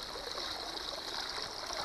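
Water pours and trickles steadily out of a crawfish bait container, a continuous close splashing stream with no talk over it.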